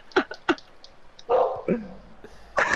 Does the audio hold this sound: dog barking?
yes